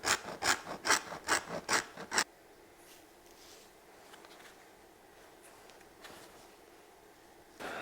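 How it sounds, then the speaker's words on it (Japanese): A tool scrapes and widens a freshly cut groove in bear leather with a quick run of about six rhythmic rasping strokes, close and crisp, before the room falls quiet. "今切った切れ目を削りながら広げていきます"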